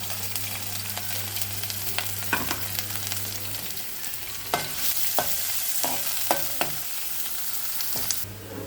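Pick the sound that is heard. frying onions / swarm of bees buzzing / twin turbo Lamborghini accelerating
frying onions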